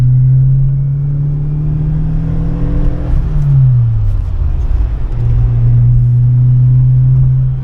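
A Fiat Uno Turbo ie engine rumbles deep and throaty through a loud aftermarket exhaust, revs dropping briefly then climbing back to a steady drone, heard up close.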